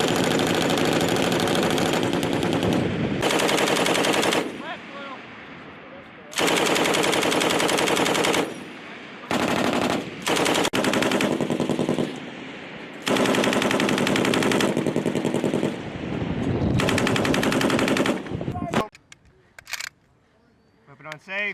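U.S. Marines fire an M240B machine gun in long sustained bursts separated by short pauses, loud and close, with brief talk near the end.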